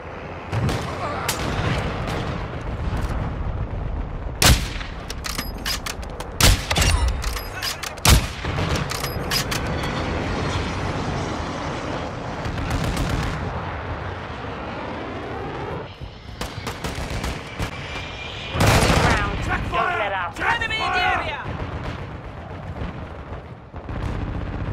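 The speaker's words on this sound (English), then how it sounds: "Did that guy just shoot me and we're on the same team?" Call of Duty gunfire in a busy multiplayer match: bursts of rifle shots and sharp cracks, with heavy blasts around the middle and end, over a dense battle din and occasional game voices.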